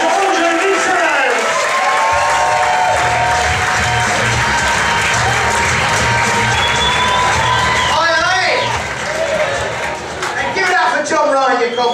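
A comedy club audience claps and cheers loudly and steadily for about twelve seconds, a dense roar of applause with whoops, while someone speaks over it on a microphone.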